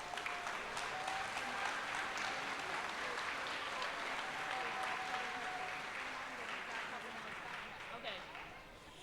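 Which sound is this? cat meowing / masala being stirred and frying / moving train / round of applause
round of applause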